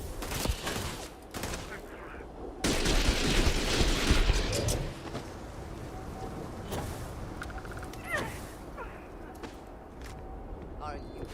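Gunfire in the Starfield Shattered Space expansion, played in survival mode: several sharp loud bursts and volleys with a sustained stretch of heavy firing, followed by scattered single shots, mixed with game sounds.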